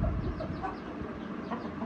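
An Aseel rooster on a poultry farm clucks in short repeated calls over a low, steady background rumble, fairly close and moderately loud.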